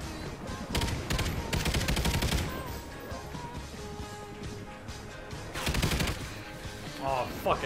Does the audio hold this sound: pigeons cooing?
no